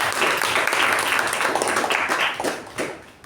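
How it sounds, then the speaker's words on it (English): Audience at a Toastmasters club meeting applauds a speaker and judge, a dense burst of clapping that holds steady, then thins and fades toward the end. "let's give a round of applause to both the speaker and the judge"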